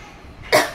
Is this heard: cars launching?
no